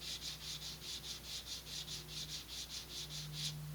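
Sandpaper rubbing against a model rocket fin held at an angle, a steady back-and-forth scraping in even strokes, about three per second, close and fairly quiet, with a low hum underneath.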